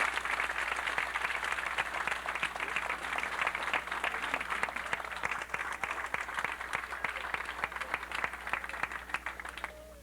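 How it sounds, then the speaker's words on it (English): Sustained applause from a crowd at a 1993 Summit, New Jersey high school football banquet, steady dense clapping filling the room for about ten seconds before easing slightly at the end. "Give a round of applause."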